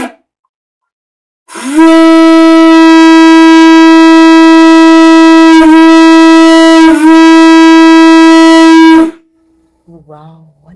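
A conch shell is blown like a horn, producing one loud, sustained, brassy tone lasting about seven seconds with slight wavers, followed by a brief voice as it stops.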